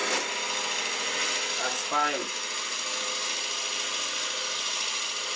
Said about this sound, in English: I only have to drill down to about there.